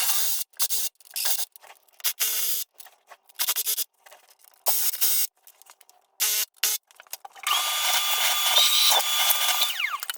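A power tool cuts notches through the wall of a PVC toilet flange above 4-inch PVC pipe, a harsh high whine in short repeated bursts that ends in a longer sustained cut close to the microphone.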